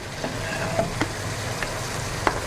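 Prawn masala sizzles in a pan, a soft steady frying hiss with a few light clicks of stirring, close but brief.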